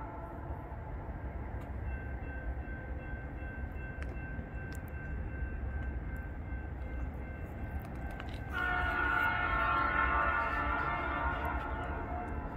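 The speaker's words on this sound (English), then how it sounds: "So let's check out the inbound train at the moment." CN freight train L563, hauled by locomotive 5414, arrives at Ladysmith with a steady low rumble of rolling cars and a long sustained horn that swells louder midway and continues to the end.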